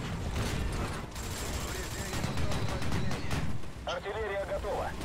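Artillery and gunfire from the video game War Thunder rumble continuously in a dense, loud barrage, with a voice speaking over it near the end.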